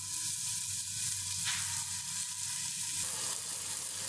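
Pieces of tilapia fry in hot oil in a pan, giving a steady, close, even sizzle that runs throughout.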